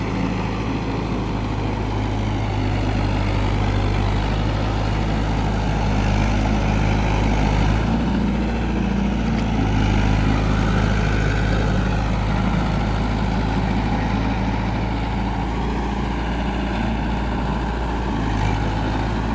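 A Mahindra Yuvo Tech Plus 575 DI 4WD tractor works through deep mud in first gear, medium range, its diesel engine droning loud and steady throughout with a heavy low rumble.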